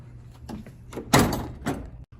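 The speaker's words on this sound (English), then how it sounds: "you have a rotating latch on the center top door that will have a prop rod that's going to go in that latch" A rotating door latch on a Precedent unit and its top door with a prop rod are worked by hand, producing a few metallic clunks and a louder thunk up close, with no talk.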